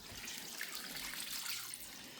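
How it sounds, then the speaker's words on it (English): Water pours steadily from a can or hose onto tomato plants in a pot fed with liquid seaweed, a continuous close hiss and splash with no pauses. "So we water it"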